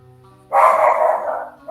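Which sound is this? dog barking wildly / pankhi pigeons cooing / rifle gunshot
dog barking wildly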